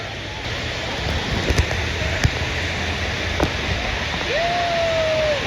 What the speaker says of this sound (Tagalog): Ilog! Ilog! Ilog gani yan.